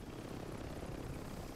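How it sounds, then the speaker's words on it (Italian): A helicopter in a video game gives a continuous low, chopping rotor rumble at moderate distance, steady throughout and fairly faint, with no talk. "Prendi l'elicottero voi, prendi pure l'elicottero."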